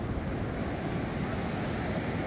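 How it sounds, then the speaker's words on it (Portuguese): Ocean surf rolling onto the southern Santa Catarina coast at Morro dos Conventos, a steady broadband roar of breaking waves with wind buffeting the microphone, continuous and loud with no pauses. "É mar, gente."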